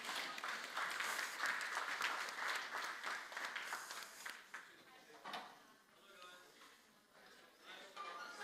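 Workshop audience applauds, a dense wash of clapping that holds steady for several seconds, then thins and fades with scattered claps, a voice talking faintly over it.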